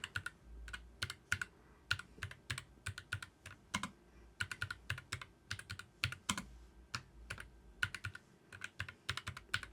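Keystrokes on a Keychron K2 HE keyboard, a steady run of sharp clicks and clacks in quick irregular bursts, close and fairly quiet, with no talking.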